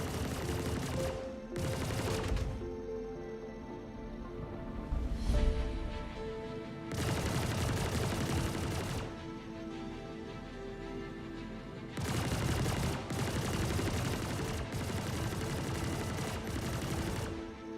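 Missile launches fire from a ship in a space combat video game, a series of loud roaring bursts of several seconds each, separated by quieter gaps with a steady engine-like drone beneath.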